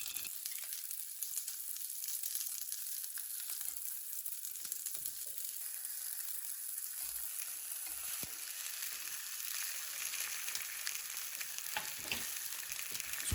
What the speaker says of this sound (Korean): 야채들은 중강불에서 무르지 않게 구워주세요.